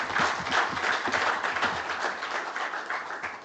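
Congress audience applauding, a steady wash of many hands clapping in a large room, continuous and moderately loud throughout.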